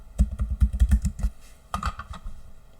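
Quick bursts of typing on a computer keyboard, a rapid run of clacking keystrokes, then a pause and a shorter second flurry, close and crisp with no talking.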